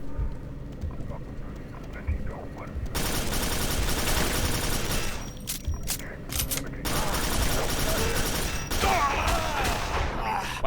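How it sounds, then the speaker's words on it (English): Rapid bursts of heavy gunfire from a powerful weapon in the shooter game Quake 4 come in loud, dense volleys with brief gaps, mixed with booming impacts and game effects. "Wow, what kind of gun does he have?"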